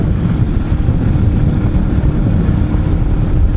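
RPS Hawk 250 motorcycle engine running steadily at lower road speed, around 42 mph and 4,500 rpm, a continuous low drone heavily mixed with rushing wind buffeting, no talk.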